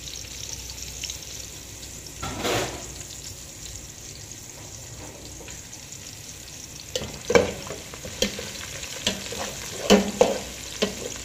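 Whole cloves and cinnamon sticks frying in hot oil for chicken biryani give a steady low sizzle with a spoon stirring, and clinks and scrapes grow louder and more frequent toward the end.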